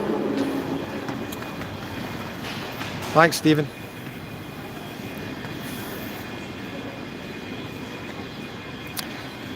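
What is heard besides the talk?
train at Glasgow Queen Street station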